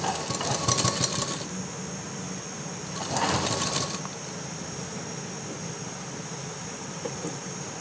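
A sewing machine stitches the back side of a floral frock's strip, running in a steady whir with two louder bursts early on, close and continuous, with no voices.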